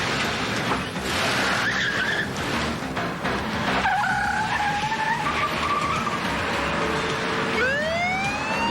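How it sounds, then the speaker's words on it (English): Car tires squeal as a vehicle peels out of a gas station, several sharp wavering screeches rising and falling over traffic noise, with a siren-like sweep near the end. "hears the car squeal out of the gas station"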